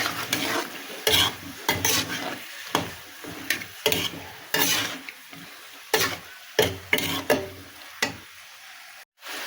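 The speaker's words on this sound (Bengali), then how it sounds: "এবার নাড়াচাড়া করে জল দিয়ে দেবো" Bottle gourd frying with chili in a pan, stirred with a utensil in repeated scraping strokes about once a second over a steady sizzle, close and fairly loud, ending in a short silence.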